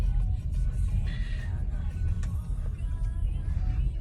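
A 2017 Kia Stinger drives over bumps, with a steady low road rumble and occasional soft thumps and knocks from the car under a constant cabin drone.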